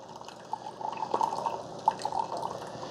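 Hot water dispensing from a Keurig K-Express coffee maker into a cup, a faint trickling and dripping stream with small bubbling splashes over a soft machine hum, quiet and close.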